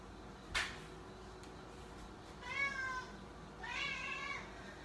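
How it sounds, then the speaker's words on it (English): A house cat meows twice in a quiet room, two drawn-out, wavering cries close by. A sharp click or knock comes a couple of seconds before them. "She's the sweetest, but her meow is really annoying."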